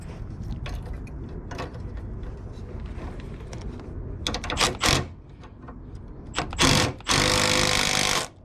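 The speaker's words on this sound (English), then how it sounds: "So mark it out, drill it out, press one in, bolt it down" A power drill bores a hole for a rivet nut in a car's engine bay, buzzing in steady close bursts with short pauses and a long loud final run.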